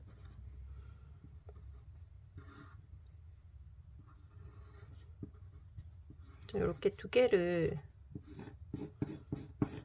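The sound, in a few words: pen drawing a tassel diagram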